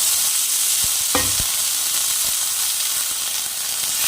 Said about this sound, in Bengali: ভালো করে মশলাটাকে একটু কষিয়ে নেব